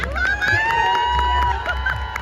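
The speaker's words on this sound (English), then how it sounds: "I can hear the crowd shouting yet cooperating." A crowd of children shouting and cheering at a school sports day during races, lively overlapping voices with high calls and whistle-like tones over a continuous babble.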